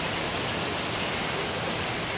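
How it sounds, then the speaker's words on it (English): Heavy rain pours down in a dense, steady, unbroken hiss with no pauses or other sounds. "It is raining so hard up there."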